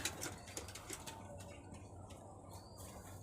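Pigeons coo in a loft where several pairs have laid eggs. The calls are soft and low, with a few flutters of wings and light clicks, and the whole scene is quiet.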